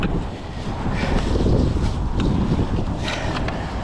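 Strong wind buffets the microphone outdoors beside a railway, a loud, steady low roar with gusty surges throughout and no clear voices.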